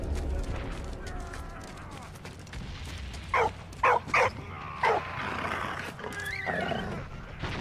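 A dog barks in the Valiant Hearts video game, four short sharp barks in the middle over steady game music and ambience.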